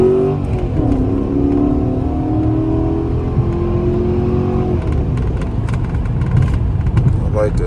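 A built Chrysler 300C engine revs during an acceleration pull, a steady loud rising drone with shifting tones held over several seconds, with a voice talking over it.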